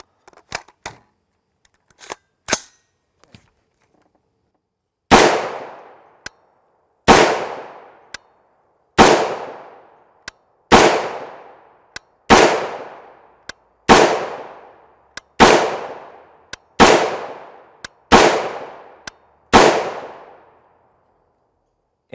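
Rifle shots from a 14.5-inch SBR with a muzzle brake firing 5.56x45mm M855 ammunition: a few faint distant cracks, then ten loud sharp reports at roughly two-second intervals, each ringing out with a short decaying echo.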